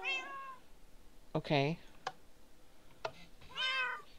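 A Minecraft cat meows several times, short rising and falling mews spread across a few seconds, fairly close, with a brief spoken word in between.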